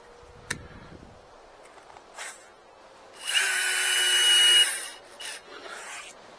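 A chainsaw cuts a wood-turning blank in a shop, a loud burst of about a second and a half that stands out after scattered small knocks and taps, then stops and leaves quieter handling sounds.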